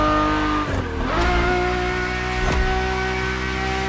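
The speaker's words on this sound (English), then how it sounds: "The F50's core is a normally aspirated V12 that came straight from a Formula One" A Ferrari F50's normally aspirated, Formula One-derived V12 in The Crew Motorfest, droning loud and steady with sharp pitch dips as it shifts and revs, plus a brief tire squeal, no talking.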